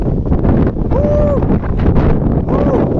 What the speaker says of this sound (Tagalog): Lakas guys ang hangin guys.